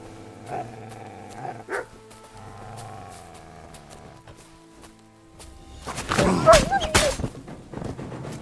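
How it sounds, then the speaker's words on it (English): A dog barks in the medieval video game Kingdom Come: Deliverance 2, with a loud cluster of barks near the end after quieter game sounds and footsteps. "I thought I heard barking."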